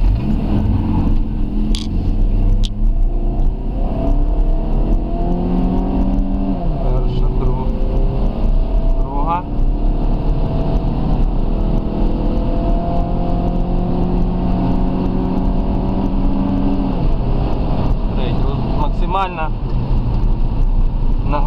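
A Chrysler PT Cruiser 2.0 engine running on LPG idles steadily and loud close by, its hum shifting slightly in pitch as the revs change, with a voice briefly audible over it.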